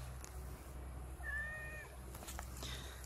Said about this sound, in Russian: Ты мой осенний кот, такой красивый кот.